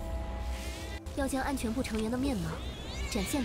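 An angry cat meows in a drawn-out, rising and falling growl inside the video game Tower of Fantasy, heard close and clear over steady game background sound.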